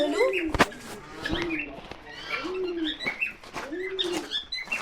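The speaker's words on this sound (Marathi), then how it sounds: "हे बघा सगळे कबूतर आहेत" Pigeons at a village hotel near Satara coo in repeated soft, rolling calls, several overlapping close by, mixed with sharp clicks and rustles and a few chirps from other birds, with a voice speaking intermittently.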